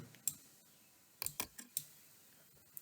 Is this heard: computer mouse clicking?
yes